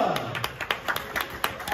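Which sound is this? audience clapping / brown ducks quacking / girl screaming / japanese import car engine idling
audience clapping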